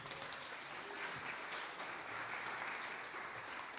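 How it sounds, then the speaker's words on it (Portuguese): A church congregation applauds, a faint, steady wash of clapping from many hands heard at a distance for a few seconds. "Aplauda Jesus"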